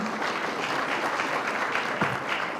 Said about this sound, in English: Give a round of applause for Rosie.